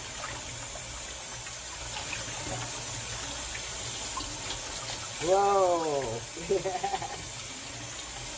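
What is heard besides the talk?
water running from kitchen faucet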